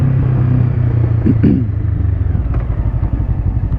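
A motorcycle engine rumbles loudly and steadily nearby, with a rhythmic pulsing beat and a few brief metallic clunks, from a bike with a metallic noise and vibration when accelerating.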